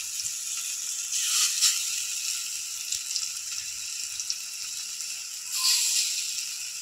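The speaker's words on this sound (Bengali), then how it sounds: "এবার মাছ ভাজার তেলে বড়াগুলো ভেজে নেব।" Small fritters of mixed leafy greens fry in oil that was just used to fry fish, giving a steady bright sizzle with a couple of louder spitting swells.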